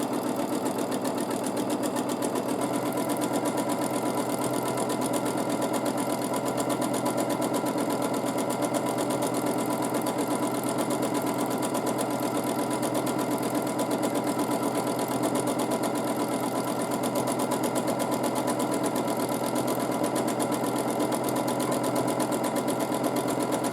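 A sewing machine free-motion quilting paisleys on a scrappy quilt runs continuously at a steady, even speed, a close mechanical whir with a fast needle rhythm and no pauses throughout.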